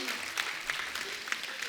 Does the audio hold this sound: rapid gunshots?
no